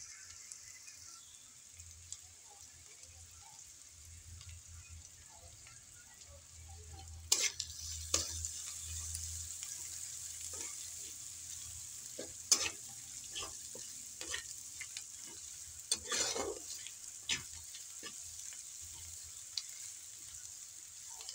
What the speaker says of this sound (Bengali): পেঁয়াজটা নাহলে কাঁচা কাঁচা থাকলে ভালো হবে না, একটু লাল করে ভেজে নিতে হবে